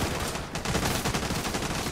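An automated turret in The Division 2 fires a dense, continuous burst of rapid gunfire from above, loud and unbroken with no voices.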